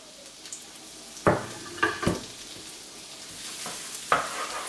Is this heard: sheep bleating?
no